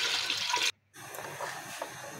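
Water from a large tea cup pours into a pressure cooker in a home kitchen, a steady close splash that stops briefly and then resumes as more is added.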